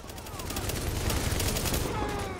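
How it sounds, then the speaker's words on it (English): Dense, rapid gunfire from the video game The Division with bursts of explosions, a continuous loud barrage of shots layered with booming blasts. "Damn, all these explosions."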